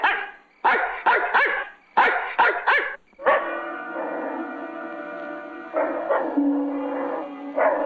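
A dog barks in quick bursts of three or so, then breaks into a long, whining, howl-like cry, fairly close and moderately loud with no talk over it.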